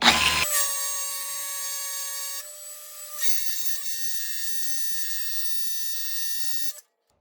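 Sandpaper pressed against a spinning wheel being sanded for polishing gives a steady, high whining drone with a shifting pitch midway, then stops abruptly into silence.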